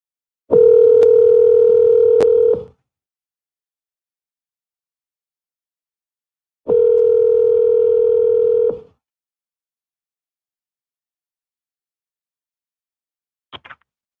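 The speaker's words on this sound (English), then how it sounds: "smiling and dialing" A telephone dial tone sounds in two steady, loud bursts of about two seconds each, separated by silence, followed by a brief faint click near the end with no talk.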